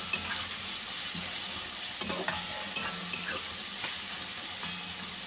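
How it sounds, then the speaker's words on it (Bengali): Steady, dense sizzle of onions frying in a pan, with occasional stirring scrapes and clicks; close and continuous, no talking. "পেঁয়াজটাকে একটু ভেজে নেব একদম লাল লাল করে।"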